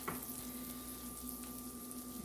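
Ham frying in a pan, a faint steady sizzle with a constant hum running underneath, no talk.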